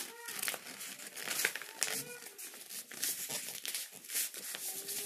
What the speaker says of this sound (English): Then you will fold it like this.